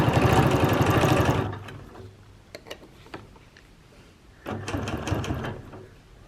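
A sewing machine quilts an edge-to-edge design along a ruler, running in a loud, rapid burst for over a second, pausing to faint clicks and handling taps, then starting again near the end.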